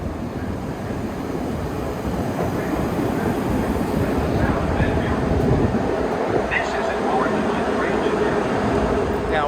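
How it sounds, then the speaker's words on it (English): A train passes by as a loud, continuous rumble and roar that holds steady throughout, with a person talking over it. "Look at the train coming."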